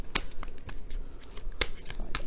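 Tarot cards being shuffled by hand, a series of short, crisp riffling bursts repeating in an uneven rhythm, close and clear with no talking.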